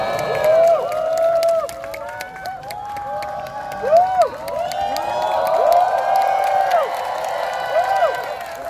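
Loud cheering and clapping from a crowd of students at the Seoul National University candlelight rally, many voices whooping and shouting in rising and falling swells over scattered hand claps.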